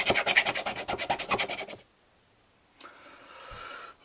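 A metal file rasps rapidly across the textured polymer grip of a Glock pistol to roughen it for epoxy, a close burst of about a dozen quick strokes, then a pause and one slower, softer scrape.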